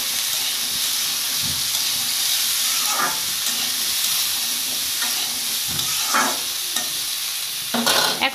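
Potato and eggplant fry steadily in a pan with salt, turmeric and chili powder over low heat, giving a constant loud sizzle with occasional scraping stirs.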